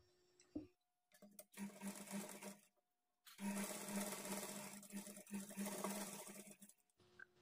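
Sewing machine stitching a blouse shoulder seam at a half-inch margin, running in two close bursts with a short pause between, steady mechanical whirring with a rhythmic needle hum.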